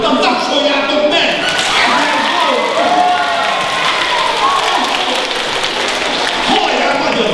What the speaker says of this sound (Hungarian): tapsoljátok meg!